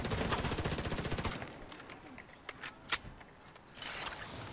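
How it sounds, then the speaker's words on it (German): A submachine gun fires a fast, loud automatic burst in The Division 2 for about a second, followed by a few faint scattered shots and quieter clatter. "ich hab jetzt nur eine Maschinenpistole"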